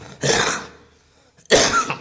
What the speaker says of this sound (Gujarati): ઉધરસ થઈ ગઈ થોડી